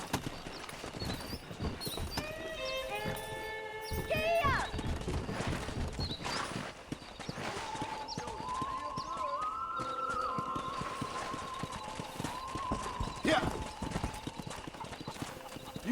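In the video game Red Dead Redemption, horse hooves clip-clop in an uneven rhythm, with a horse whinnying partway through, while people talk over the trotting.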